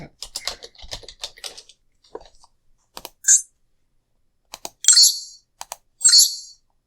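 Computer keyboard typing in quick clattering bursts that trail off into scattered single keystrokes and short runs, close and fairly loud, with no talking.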